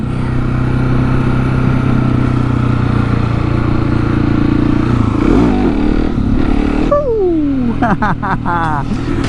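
Motorcycle engine roars steadily, close and loud, then revs sharply as the rider pops a wheelie on a bike he hasn't ridden in a while, with a rising whine and a voice shouting over it near the end.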